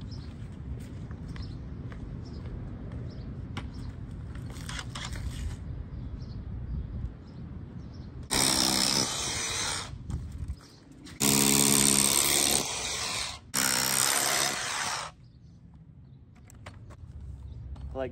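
A power drill whines in three loud bursts, each lasting a second or two, drilling holes for termite treatment, over a steady rumbling engine background.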